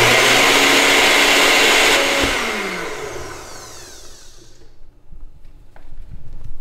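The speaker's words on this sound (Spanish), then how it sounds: "Agarran una licuadora," A blender grinds three spoonfuls of sugar into powdered sugar, a loud, steady whir for about two seconds. The motor then spins down with a falling whine and fades to a quiet room with light handling noises.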